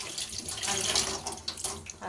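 Plain tap water runs and splashes in a sink as wheat flour dough is washed and squeezed under it, a close, continuous gushing with uneven sloshes; a voice can be heard faintly underneath.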